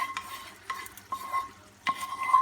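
Pasta being stirred into a thick curry sauce in a pan, with a few soft scraping strokes and light sizzling, quiet and close with no talk.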